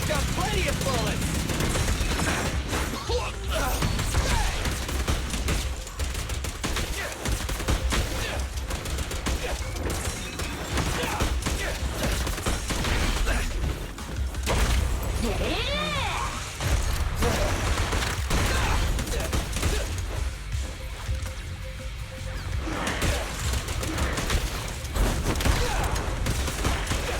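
Rapid gunfire from the combat video game Zenless Zone Zero, loud, dense bursts of shots running almost continuously through the stretch, mixed with game effects and voices.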